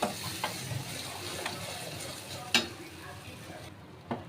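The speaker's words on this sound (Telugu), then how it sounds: "ఇప్పుడు దీన్ని అయితే మనం ఇలా కలుపుకుంటూనే ఉండాలండి" Almond paste halwa stirred in a pan over a medium flame gives a steady close sizzle, with scraping spoon strokes and a few soft clicks against the pan.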